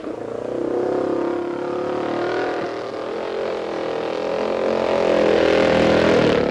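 Racing motorcycles at the 1950 Isle of Man TT, including 250 cc lightweight machines at a mass start, a loud sustained engine roar that swells and rises in pitch, heard alone without talking.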